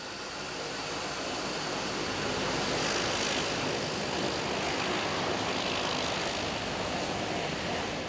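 Propeller airplane in flight over the Solomon Islands, a steady, loud droning engine hum with broad rushing noise that holds evenly throughout, no voices.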